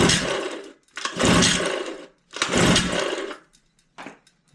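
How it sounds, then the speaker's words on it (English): A 1953 Evinrude Lightwin 3hp outboard is pull-started for a compression test, giving four rough, whirring cranking bursts separated by short silences; the motor does not run. "Now that we have a pull start mechanism that works, let's do a compression reading."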